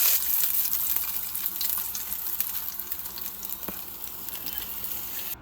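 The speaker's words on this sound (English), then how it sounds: "tip this up and sear the sides too" One big piece of pot roast searing in a hot pan, tipped up to brown its sides, making a steady crackling sizzle that eases off slightly over several seconds, with no talking.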